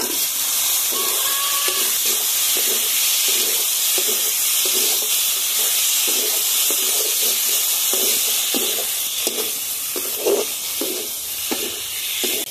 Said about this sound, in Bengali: এখানে দুটো টমেটো কেটে নিয়েছি, এখন টমেটোগুলো ঢেলে দেব।